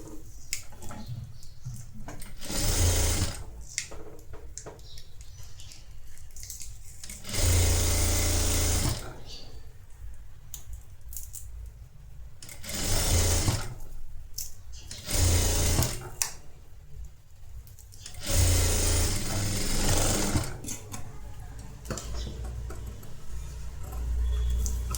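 Sewing machine stitching blouse fabric for a cross-neck designer blouse, loud bursts of rapid whirring stitching lasting a few seconds each, separated by pauses where someone talks.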